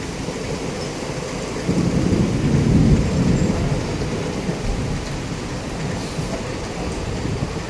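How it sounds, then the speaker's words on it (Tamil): Steady rain pours down with a deep rumble of thunder swelling in the middle and fading, with lightning, a continuous storm with no voices. "ஒரு பக்கம் மழை, ஒரு பக்கம் இங்கே வந்து இடி மின்னல் அடிக்குது"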